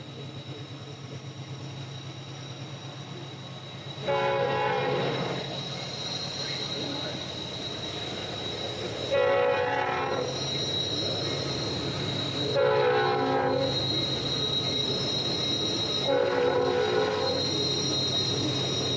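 A train approaches on Horseshoe Curve in fog, its horn sounding in four loud, sustained blasts spaced several seconds apart over a steady low rumble of the engine and rails.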